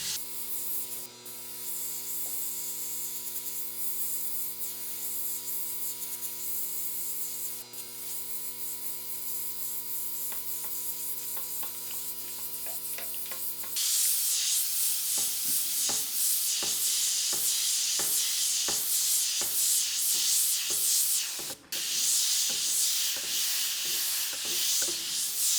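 An airbrush sprays paint onto a monotone portrait, a soft steady hiss over a low mains-like hum, turning brighter and louder about halfway through with intermittent crackly ticks, no voices.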